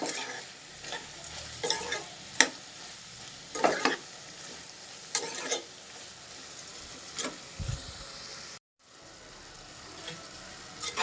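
A spoon scrapes and stirs through brinjal curry with chili powder sizzling in a pan, irregular scraping strokes over a steady frying hiss, close and fairly loud, with no talking and a brief dropout near the end.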